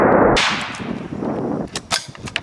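A loud sharp blast opens, followed by a burst of noisy clatter and several smaller sharp cracks scattered through the rest.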